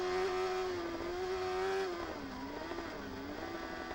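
Superbike racing engine ridden hard by Ryan Farquhar in the 2010 Cookstown 100 road race, a loud high-revving howl that holds steady, then drops and wavers through gear changes, close and continuous.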